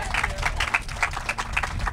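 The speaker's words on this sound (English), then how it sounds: "we should give some applause for that." An audience claps in scattered, steady applause for a couple of seconds, with voices murmuring underneath.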